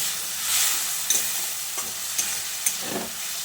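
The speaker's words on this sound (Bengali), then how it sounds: "আবারও একটু জল দিয়ে মশলাটাকে নেড়ে চেড়ে মিশিয়ে নিয়ে আবারও ঢাকা দিয়ে কষিয়ে নেব।" Masala with potatoes being stirred and fried in a pan, a steady soft sizzle broken by a few sharp spatula scrapes and taps, close up with no voices.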